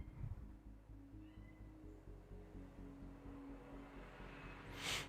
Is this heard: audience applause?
no